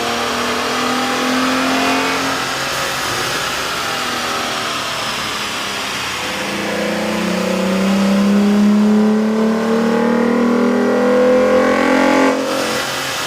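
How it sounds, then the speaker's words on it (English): A heavy Dodge Durango or Jeep Grand Cherokee SUV engine with an aftermarket K&N air intake revs steadily under load on a dyno, pitch climbing and falling through long sustained pulls, loud and close with a deep intake roar. "we ran the vehicle on the dyno to test the sound comparison versus the stock intake"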